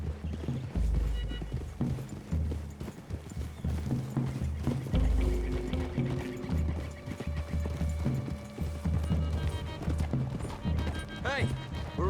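Horse hooves in the video game Red Dead Redemption 2, a steady rhythmic clip-clop of several horses moving along, with a low musical score underneath and occasional snorts.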